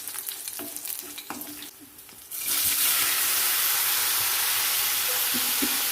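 Vadukapuli lemon stir-fried with chillies for an Onam lemon curry: quiet stirring taps at first, then a sudden loud, steady sizzle as the lemon hits the hot pan, continuing close and unbroken to the end.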